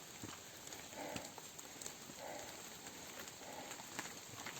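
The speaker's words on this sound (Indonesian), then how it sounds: "dan mulai hujan gerimis." Light drizzle patters faintly on a mountain trail around 2,190 metres up a steep climb. The soft, continuous hiss of raindrops has occasional small taps and carries no voices.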